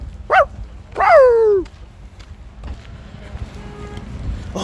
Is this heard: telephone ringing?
no